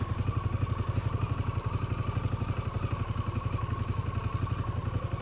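A Harley-Davidson Pan America motorcycle idles with a steady, rhythmic low engine pulse while turning around slowly at a rest area, close and continuous with no talk.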